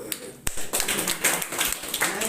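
Audience applause at a meeting, a dense patter of clapping hands that is moderately loud and continuous for a couple of seconds.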